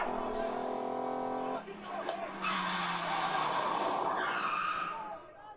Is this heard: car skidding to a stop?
yes